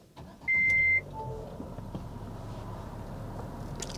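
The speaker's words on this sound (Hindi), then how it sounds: "पहले मैं इस कार को ऑन कर लेता हूँ।" An MG Hector petrol CVT car starts up with a single sharp electronic beep, followed by a low, steady engine hum and faint cabin noise.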